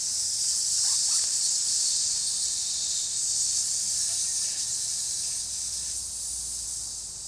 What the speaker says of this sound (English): you're gonna breathe in through your nose, out your mouth, squeezing your, almost like you're trying to blow out a candle, and you're gonna make the S sound